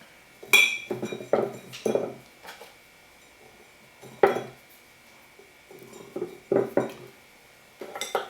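Papaya pieces drop into a glass jar in bursts of clinking, glassy taps and knocks separated by short pauses, close and moderately loud, with no speech.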